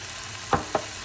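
Potatoes and onion drop into ground beef sizzling in a soup pot, making two quick soft plops about a quarter second apart over a faint, steady hiss.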